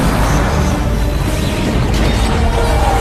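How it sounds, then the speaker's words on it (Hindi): Cannons of Salahuddin's army firing in a battle scene, a loud, dense rumble of booms and crashing impacts that carries on without a break, with no speech heard. "अगले 5 दिन तक सलाहुद्दीन की तोपें इसी तरह हमला करती रही"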